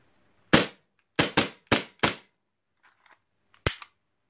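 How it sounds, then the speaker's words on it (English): Umarex M9A3 CO2 gas blowback airsoft pistol with a metal slide firing five sharp, loud cracks, one alone and then four in a quick string, a pause with faint mechanical clicks, then a final crack. "You saw how quickly it returned on the video when I was firing it."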